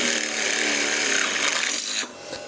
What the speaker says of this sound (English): Let me get another spot where I haven't drilled already. See what it does.